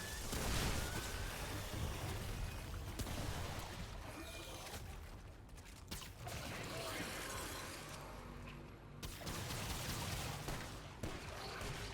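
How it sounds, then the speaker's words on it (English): Explosions in a team multiplayer video game, with dense rolling blasts, gunfire-like bursts and booms filling the whole stretch, loud and continuous, while players talk over the action. "So many explosions."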